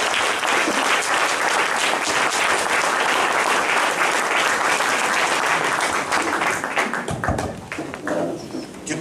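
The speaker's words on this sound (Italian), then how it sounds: "fate un applauso e accogliamo il servo di Dio" Congregation applause fills an evangelical Christian church to welcome a speaker, dense and sustained, thinning toward the end with a few scattered claps.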